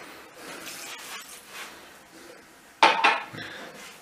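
Water from a glass splashes into a cooking pot of mushrooms, a short loud pour with clinking cookware, preceded by soft rustling kitchen noise.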